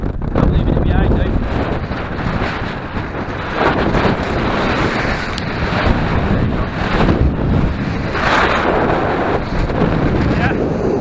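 Strong wind on Winter Hill buffets the microphone during a bike ride, a loud, rough, gusting roar that surges and eases throughout with no break.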